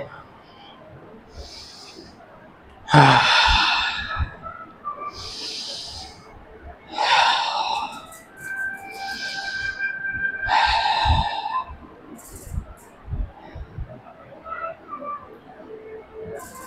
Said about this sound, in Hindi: लंबी सांस लेकर छोड़ना है।